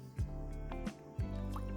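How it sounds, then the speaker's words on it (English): A little liquid is poured into a drink, giving a few close, soft drips and splashes in a quick, irregular sequence. "Just pour a little in."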